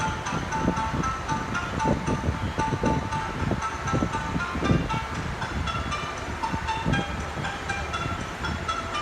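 A KiHa 40 series diesel train departs Hirosaki station bound for Fukaura, a steady engine drone and rolling rumble with intermittent clanks, under a platform announcement and a tonal departure melody.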